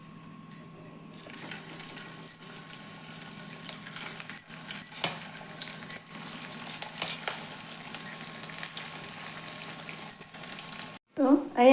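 Methi poha tikki fry in a little oil with a soft, steady sizzle, punctuated by light clinks and taps of a utensil, near and moderately quiet.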